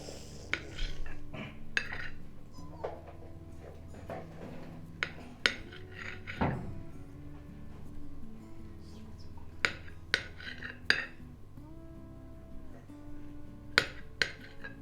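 A knife slicing through an omelette and meat roll: sparse, close taps and clinks of the blade on the board or plate, spaced irregularly with quiet gaps, in a faint room.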